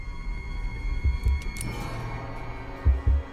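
A heartbeat sound effect is added to a film soundtrack for a creepy doll horror scene. Low, muffled thumps arrive in slow pairs over a faint hum.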